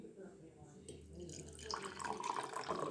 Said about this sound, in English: So I'm going to pour myself a cup here in my nice teapot.